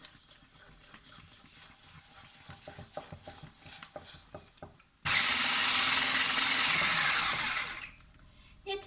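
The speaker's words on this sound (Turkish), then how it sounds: "Ve bu ikisini şöyle 3-5 dakika güzelce çırpalım." Eggs and sugar are whisked in a bowl: quiet clinks and scraping give way to a loud, steady whirring burst lasting about three seconds, which then cuts out.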